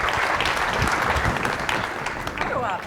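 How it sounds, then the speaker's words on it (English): An audience at a sales seminar breaks into loud, sustained applause for a guest, a dense wash of clapping that stays strong throughout, with voices mixed in. "Big round of applause for Penny Mac"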